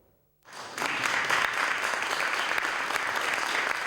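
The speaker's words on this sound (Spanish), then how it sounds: "lo recibieron con el más caluroso aplauso" Warm applause greets former Chilean president Patricio Aylwin on arrival, starting abruptly after a brief quiet moment and then holding as a dense, steady clapping from a large gathering.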